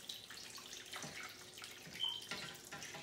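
Brewed tea being poured for making forsythia jelly, a steady liquid splash and trickle into a pot or jar, fairly quiet and close, with a few brief louder gushes and no talking.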